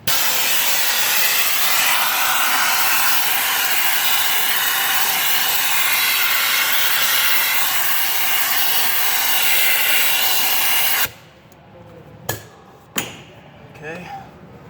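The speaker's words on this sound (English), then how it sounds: "I'm gonna suck up all this debris." A small air vacuum runs loud and steady with a harsh broadband rush while pulling corrosion debris from a Ford Powerstroke diesel engine during an EGR valve replacement, then cuts off abruptly, leaving a few short clicks and handling noises.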